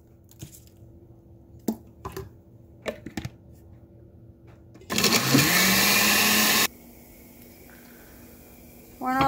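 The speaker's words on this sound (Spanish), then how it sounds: "Y lo voy a poner a moler para agregárselo al fideo." A blender purees tomato, onion and garlic for Mexican noodle soup, a loud steady whir running about two seconds after scattered kitchen clatter, then cutting off into quieter background noise.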